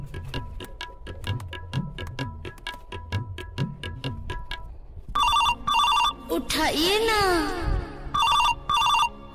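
A phone's electronic ringtone trills in loud repeated bursts, following a steady rhythmic beat of music.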